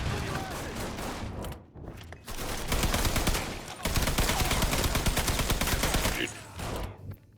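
Sustained gunfire in the Mafia 3 video game, dense crackling bursts of automatic fire running almost continuously with brief gaps, loud and close.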